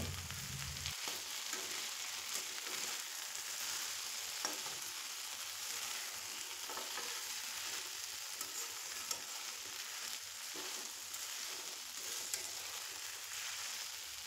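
Steady sizzling and frying of stuffed okra (bharli bhindi) in a pan, a continuous hiss with occasional soft scrapes as the vegetables are turned, heard close and alone without talk.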